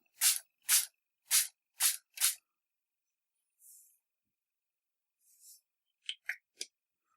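Spray bottle misting water onto Brusho colour crystals on paper: five quick, evenly spaced hissing spritzes, then a couple of softer puffs and a few short clicks of the trigger, close and alone in a quiet room.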